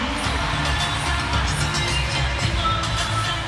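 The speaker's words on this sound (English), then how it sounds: "The crowd trying to will them." A volleyball crowd in an arena cheering and roaring loudly and continuously during a Brazil vs. Türkiye VNL 2025 match, dense and sustained with scattered shouts.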